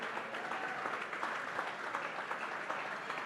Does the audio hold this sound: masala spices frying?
no